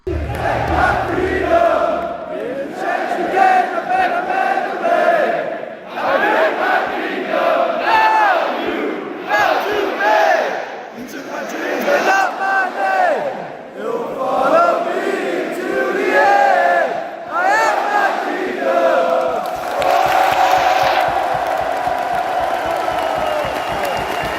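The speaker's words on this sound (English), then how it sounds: "Remember when they finished Cody Rhodes' theme song, even after the song was finished?" Wrestling arena crowd at a WWE international premium live event, thousands of voices chanting and singing Cody Rhodes' theme song in loud rising and falling waves that continue steadily for the whole stretch.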